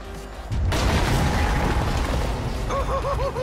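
A phone-detonated explosion in GTA 5 goes off with a sudden loud boom, followed by a sustained roaring rumble and debris, then a rising and falling alarm-like tone near the end.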